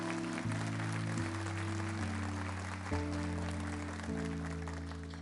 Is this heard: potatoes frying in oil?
no